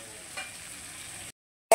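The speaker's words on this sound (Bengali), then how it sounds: "কিন্তু আমি একটু সর্ষে ফোড়ন দিই" Mustard seeds splutter briefly in hot oil for tempering, a soft close sizzle with a faint crackle, then cut off into silence before a short loud burst at the end.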